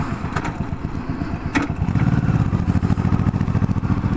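A Honda Shadow 1100 motorcycle engine rumbles loud and close on an Arizona road trip, a throbbing, uneven beat that thickens and grows louder partway through, with no talk.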